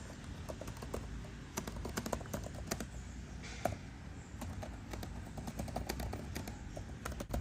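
Rapid, irregular key clicks on a BOOX Tab X C color e-ink tablet keyboard, close up, in bursts with short pauses over a low steady background hum.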